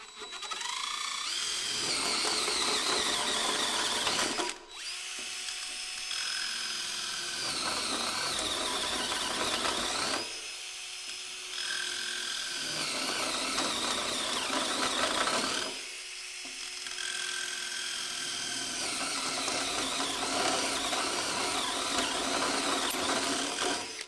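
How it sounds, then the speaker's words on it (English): A handheld drill with a step bit and cutting oil bores out holes in a beam-to-post connection, three long whining bursts separated by brief pauses, close and fairly loud with no talking. "I use another drill with a step bit or a vary bit, and I'll drill these holes out"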